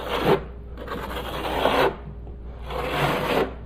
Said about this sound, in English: keying the mortar into the substrate